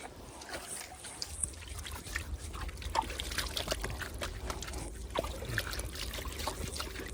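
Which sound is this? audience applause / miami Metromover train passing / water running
water running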